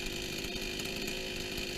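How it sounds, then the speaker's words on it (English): A Huyosen Chinese chainsaw, newly unboxed and on its first startup, idles steadily with a continuous buzzing engine drone at close range, even and unbroken throughout. "I'm gonna let it idle a little bit here. The idle sounds good"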